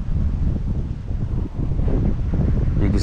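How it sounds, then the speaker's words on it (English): Wind blowing outdoors on a fishing outing, a steady heavy rumbling buffet across the microphone that continues throughout, with no clear speech. "the wind is blowing too"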